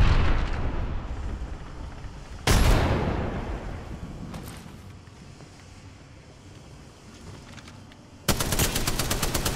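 A frag grenade goes off in the Apex Legends shooter game as a loud, close explosive blast that fades into a long rumbling tail. A sudden burst of rapid gunfire follows near the end, and no one talks.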